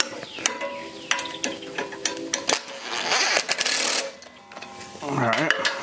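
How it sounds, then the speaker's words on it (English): A small impact driver rattles in short bursts while snugging blade bolts on a Harbor Freight woodchipper, close and metallic, with someone speaking briefly near the end. "I'm going to use my little impact driver just to snug things up."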